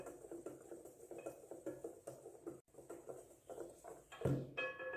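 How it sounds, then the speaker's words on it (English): A whisk works spices, salt and baking powder together in a bowl for a sweet potato pound cake batter, making quiet, rhythmic ticking and patter strokes with a brief pause and a sharper clink near the end. "Then we're just going to whisk it until it is well combined."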